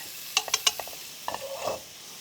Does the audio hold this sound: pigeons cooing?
no